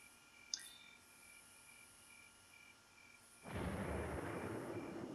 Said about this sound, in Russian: этот звук грома, как будто мы обнаружили прямо что-то невиданное, неслыханное